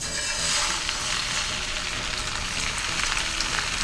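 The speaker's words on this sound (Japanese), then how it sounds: "最初に卵液を入れます。" Beaten egg mixture sizzles and crackles steadily in a hot, lightly oiled nonstick rectangular pan over medium heat for a rolled omelette, a dense, continuous frying hiss, close and loud with no talk.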